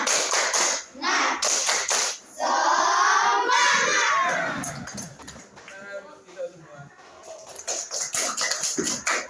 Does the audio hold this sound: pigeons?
no